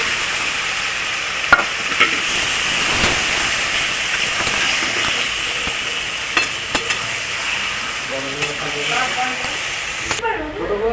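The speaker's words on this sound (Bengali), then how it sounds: "এবার আমি দিয়ে দেবো মশলা মাখা মাছটা, লোটে মাছটাকে" Lote fish coated in spices frying in a pan with onion and boiled kochu loti stems, a steady loud sizzle with scattered stirring clicks and a few sharp taps, and a voice talking briefly near the end.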